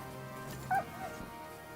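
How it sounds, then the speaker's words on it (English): A dog in the video game Kingdom Come Deliverance 2 gives a single short, faint yelp or whimper, heard briefly and alone against a quiet background. "Don't hit my dog, Blues."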